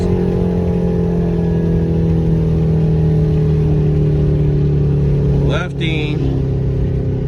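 A Dodge SRT car's engine drones steadily nearby with a smooth, even low hum, then a brief sharp rev flare near the end during a downshift before settling back.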